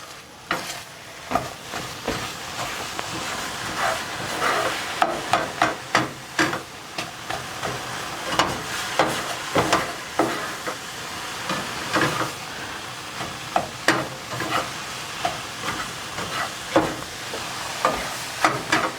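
Egg white and breakfast sausage scramble cooks in a pan with a steady sizzle, and a spatula stirs and scrapes against the pan in frequent, irregular strokes.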